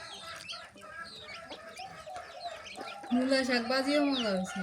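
Chickens clucking nearby, with scattered short clucks at first, then a louder stretch of squawking calls, a voice faintly underneath.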